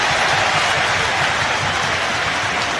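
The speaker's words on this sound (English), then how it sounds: "Round of applause" Football crowd at a Premier League match between Derby County and Manchester United, applauding the Derby skipper Savage; a steady, loud wash of stadium applause with no break.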